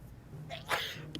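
One quick sneeze in the video game 60 Seconds! Reatomized, fairly faint, with a short breathy intake before it and no talking around it.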